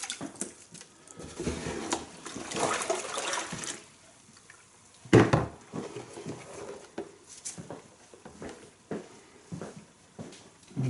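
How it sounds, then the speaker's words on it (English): Water drains off a telescope mirror in uneven trickles and splashy patters, with a sharper splash midway and quieter dribbling between bursts. "I'm going to drain this off now"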